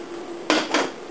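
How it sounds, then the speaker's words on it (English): Noodles going into a pot of simmering soup, heard as two quick clattering knocks of pot and utensil, close and brief, against a quiet background. "Now I'm going to add the noodles to it."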